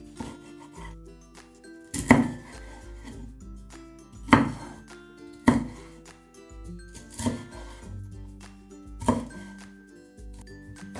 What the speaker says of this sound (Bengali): প্রথমে ক্যাপসিকামটা আমি ভালোভাবে ধুয়ে নিয়ে কেটে নিচ্ছি